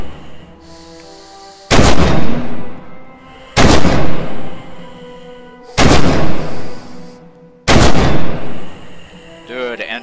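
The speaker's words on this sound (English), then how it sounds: "Open fire on the tank downrange." An anti-tank rifle fires at a tank in Red Orchestra 2, with four loud, close, booming shots evenly spaced about two seconds apart, each trailing off in a long echoing decay.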